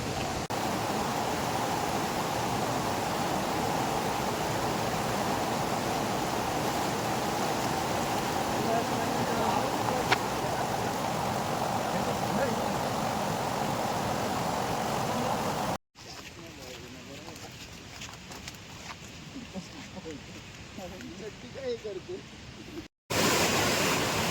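A steady, dense roar of a waterfall in Raigad, India fills the whole stretch, constant and fairly loud, with a brief quieter gap before it resumes.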